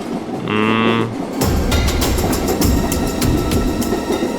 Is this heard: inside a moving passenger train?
yes